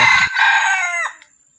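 A rooster crows once, close and loud, a long harsh call that rises and then trails off into quiet.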